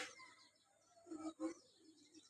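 A crow calls in two short harsh bursts in the middle, fairly close, over a quiet outdoor background.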